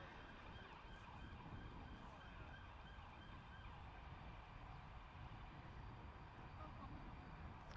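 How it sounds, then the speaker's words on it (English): An ambulance siren sounding faintly in the distance at a cricket ground in Hornchurch, England, a steady wailing tone buried under a constant broadband outdoor wash. "there was an ambulance going back in the background"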